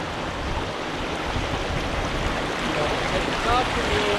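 Rushing river rapids around a canoe paddling down a river in Ontario, a steady, dense wash of churning water with some wind buffeting, continuous and fairly close, with no voices.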